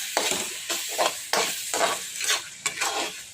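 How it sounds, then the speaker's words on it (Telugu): Spoon stirring chili powder, turmeric and ginger paste in a frying pan for egg curry, a steady sizzle broken by scraping strokes that repeat every half second, close and moderately loud. "వేసి మంచిగా కలుపుకుందాము. కారం, పసుపు, అల్లం పేస్ట్ అన్నీ బాగా మిక్స్ అయ్యాక"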